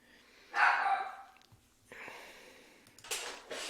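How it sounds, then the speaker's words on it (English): A pet dog barks somewhere in the house in several muffled, breathy bursts at moderate distance, heard at low level beneath a quiet room background. "my dog was barking"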